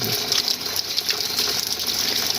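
Water gushes steadily from a hose into a crab pond, a loud, continuous rushing splash with no break.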